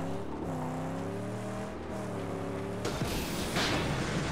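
Car in the Mad Max video game hitting its nitrous boost: a rising, droning engine rev that suddenly bursts into a loud, rushing roar near the end.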